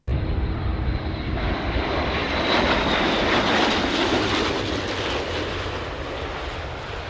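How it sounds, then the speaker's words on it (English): A fighter jet makes a low pass between Australian city buildings, a loud, steady roaring whoosh that swells and holds for several seconds, then eases slightly as it moves off, with no voices. "Crazy fighter jet pilot low pass between Australian city buildings"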